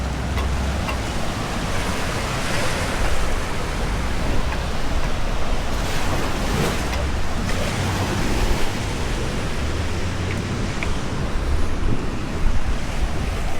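Steady roar of ocean surf breaking on rocky Huanchaco beach in Peru, calmer waves washing in continuously with wind rumble, no voices.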